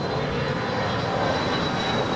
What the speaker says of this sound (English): this is NetJets 220 off to Dallas Love Field. It's a Bombardier Challenger 650.